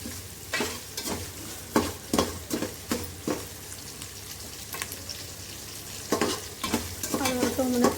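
Green chillies and onions sauté in a pan on a stove over medium flame. A steady sizzle runs under repeated scraping stirs of a spatula, close and fairly loud, with no voices.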